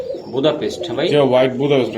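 Soft, throaty pigeon cooing rolls on steadily for about two seconds, close by, with low warbling pulses overlapping.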